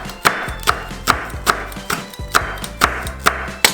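Green chili being chopped with a knife on a cutting board, about nine sharp, evenly spaced knocks in a steady rhythm, close and loud with no voices.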